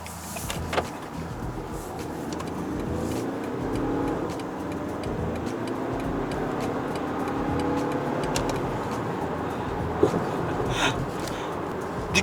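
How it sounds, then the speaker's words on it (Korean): A BMW 118d diesel hatchback pulls away in sport mode, its engine a steady muffled drone heard from inside the cabin, with faint clicks and a light thump near the end. "스포츠 모드에서 차량을 출발시키겠습니다"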